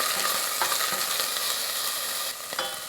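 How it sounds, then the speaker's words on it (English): Onions caramelizing with chopped banana peels and salt sizzle in a pan for a vegan Indian banana-peel curry, with a steady hiss and a few scraping stir strokes, close and continuous, no talking. "And stir it again."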